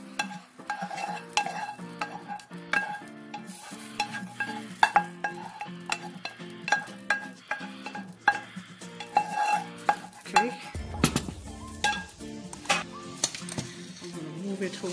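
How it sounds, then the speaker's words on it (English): Vegan Alfredo sauce is poured into a pan of pasta with broccoli and stirred with a utensil, making rhythmic scraping and clinking against the pan over quiet background music. "I'm just gonna pour the sauce in the pan, because this pan is bigger than my saucepan"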